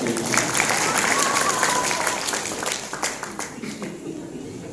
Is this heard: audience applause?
yes